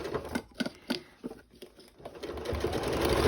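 A sewing machine stitches small pleats into a fabric basket, running in short stuttering bursts with pauses between them, then settling into a steadier, louder run near the end.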